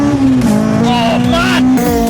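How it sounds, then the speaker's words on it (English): A Honda Civic EP3, naturally aspirated and tuned to 282 bhp for the track, holds a loud, steady high-rpm engine note that briefly dips and recovers as it bounces off the rev limiter. "Bouncing off a limiter."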